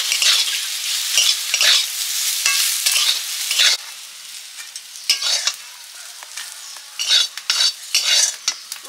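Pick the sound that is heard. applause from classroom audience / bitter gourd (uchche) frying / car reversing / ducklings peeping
bitter gourd (uchche) frying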